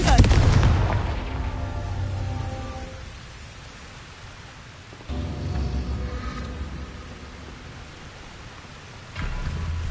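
In Hogwarts Legacy, a Confringo blast curse goes off with a heavy, booming explosion and a long rumbling decay. Two more blasts follow, one midway and another near the end, each loud and full.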